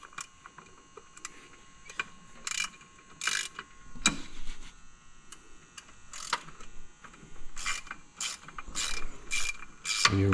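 A hand ratchet clicks in short, quick bursts while removing the clutch pivot bolt on a 2020 Polaris RZR Pro XP, close and fairly quiet with mechanical handling noise between the bursts.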